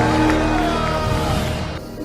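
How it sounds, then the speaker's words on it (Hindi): A large crowd at a Benny Hinn gathering in Mumbai cheers and shouts in a sustained, loud roar, with sung and spoken voices over it. "I want you to give the Lord another big shout."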